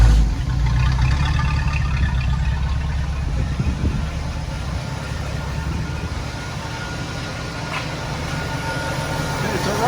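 A 1973 Mustang convertible's engine idles low at roughly 440 RPM in drive, a steady rumbling drone with a faint rhythmic pulse, close and continuous without any voices.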